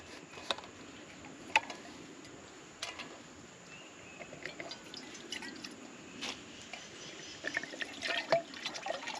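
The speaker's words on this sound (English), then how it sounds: "Let's get some water in it." Water pours into a pot at a bushcraft lean-to camp in the Alabama woods, a quiet, irregular trickle broken by small drips and splashes, with no talking.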